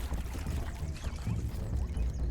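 Water splashing and sloshing from swimming mites in the video game Grounded, a steady churning wash of close, fairly loud splashes with no pauses.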